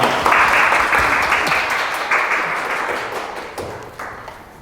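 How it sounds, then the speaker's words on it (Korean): An audience at a Busan youth policy academy session bursts into applause for an introduced professor, starting loud and full, then thinning and fading toward the end with a few scattered claps. "큰 박수 부탁드리겠습니다."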